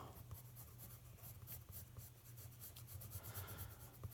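Pencil scratching steadily across paper while sketching eyebrows in a drawing, a continuous close rasp with small stroke-by-stroke pulses and a low steady hum beneath.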